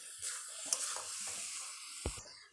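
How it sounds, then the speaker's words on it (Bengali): Grated coconut frying slowly over low heat in a pan, a soft hiss with light stirring scrapes and a couple of brief knocks, quiet and close, without speech. "সেই জন্য অল্প তাপে ধীরে ধীরে এই নারকেলটি ভেজে নিতে হবে।"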